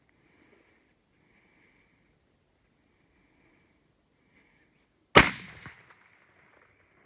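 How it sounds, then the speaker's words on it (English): A single loud rifle shot fired at a mule deer while hunting in Montana cracks sharply about five seconds in, with a short decaying echo. Quiet outdoor ambience comes before it and after it. "I'm gonna shoot him right in the neck."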